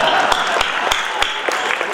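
At a Kavi Sammelan poetry gathering, an audience claps in a loud, brisk burst with several sharper individual claps standing out, while a voice murmurs beneath.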